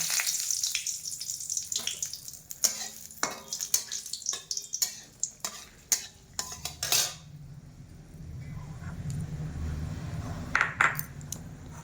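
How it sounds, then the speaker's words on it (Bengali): Dried red chillies and bay leaves go into hot oil with metal utensils clinking and scraping against a pan, a run of sharp close taps that gives way to a softer, steady frying sizzle. "তারপর আমি তেলের মধ্যে শুকনো লঙ্কার তেজপাতা দিয়ে দিব।"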